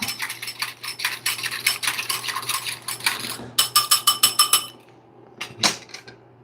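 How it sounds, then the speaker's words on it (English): Whisking in a bowl, a close metal whisk ticking rapidly and rhythmically against the sides, then a faster burst of bright clinks before tapering into a couple of final knocks. "Just gonna whisk it out."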